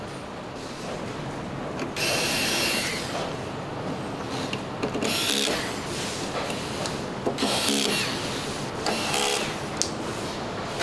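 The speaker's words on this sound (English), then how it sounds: "Spacers are drilled in to ensure the stability of the LCD panel once the frame and LCD panel are combined." Factory machinery drilling spacers into the frame of an LCD TV panel, a continuous mechanical whirring and grinding with repeated louder surges and small clicks.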